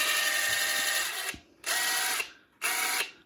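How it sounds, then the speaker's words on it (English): A cordless drill with a rechargeable battery pack spins up in three loud, close whirring bursts, each cut off by a short pause as the trigger is released. "So this is a cordless drill."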